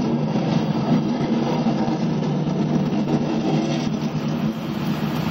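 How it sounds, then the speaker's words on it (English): Race car engines at Indianapolis Motor Speedway start and roar together, a loud, dense, continuous rumble heard from a distance, steady throughout with no voices. "And the engines roar to life."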